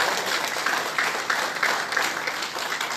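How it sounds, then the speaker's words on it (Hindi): Audience applause at a welcome gathering for MP Imtiaz Jaleel at Maulana Azad College in Aurangabad, a steady dense wash of many hands clapping from a crowd, fairly distant and continuous throughout. "तालियां तो मारिए सर।"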